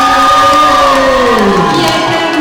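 A loud festival crowd at a manga cosplay contest cheers and whoops, sustained voiced shouts sliding in pitch over a constant roar, close and unbroken throughout.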